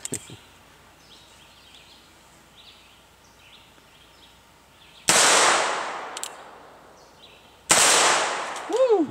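Two sharp, loud gunshots from cowboy action shooting ring out several seconds apart over a quiet outdoor background, each with a long echoing decay.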